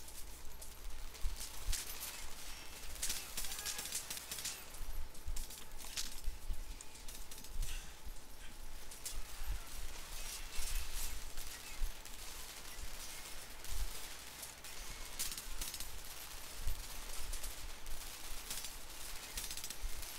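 Rattling machine gun fire in the shooter Homefront, dense rapid bursts crackling continuously over battle noise for the whole stretch, moderately loud with no talking.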